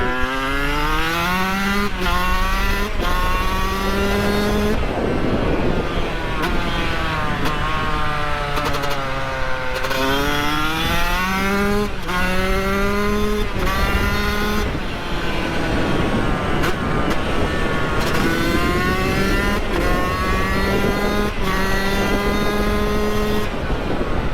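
A Yamaha YZ 125 two-stroke dirt bike rides on a mountain trail, its loud, close engine repeatedly revving up through the gears and dropping back between shifts, no voices.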